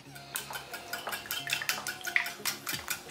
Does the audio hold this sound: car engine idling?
no